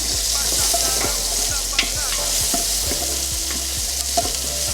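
Garlic and onion sautéing in a pan for a home-cooked dish, a steady close sizzle and frying hiss with occasional light stirring scrapes and clicks, no talk over it.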